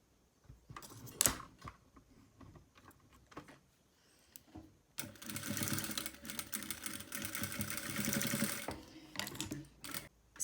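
A sewing machine stitches a seam with its presser foot running right against a ring, a loud fast mechanical whir lasting several seconds after some handling clicks and rustling.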